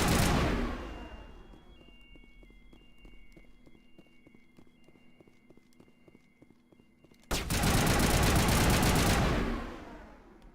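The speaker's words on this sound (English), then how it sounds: "Just shot the Geth in the self-replication unit." Gunfire in Mass Effect aimed at a Geth, first a burst of shots, then a quieter stretch of rhythmic mechanical ticking, then a loud roaring barrage that fades out near the end.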